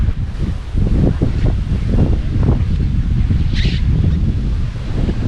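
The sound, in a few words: wind blowing outdoors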